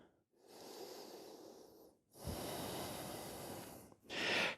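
Deep yoga breaths during a hot yoga session: a long airy inhale, a pause, then a fuller, louder exhale, ending with a short forceful breath, close and alone without speech.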